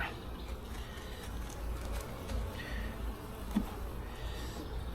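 Honey bees hum in a dense, steady drone during a hive inspection, close and continuous, with a few faint knocks and rustles from the hive work.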